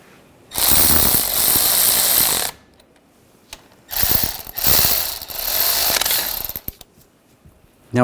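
A ratchet clicks rapidly in two long runs, tightening a brake caliper bolt on a 2014-2018 GMC Sierra 1500 pickup, loud and close with a brief pause between the runs and no talking.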